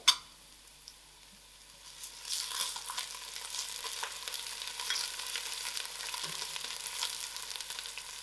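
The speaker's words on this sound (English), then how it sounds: "My onions are turning brown, so adding in my ginger, my chilies that crushed together." Crushed ginger and chilies go into browned onions in a pan for kadhi: a sharp clunk, then a soft sizzle that swells into a steady, moderate frying hiss.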